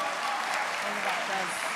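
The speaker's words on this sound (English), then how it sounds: "Come on, give her a round of applause." Audience applause at a live London singles event, a broad wash of clapping from a crowd that stays steady and fairly loud throughout, with voices mixed into it.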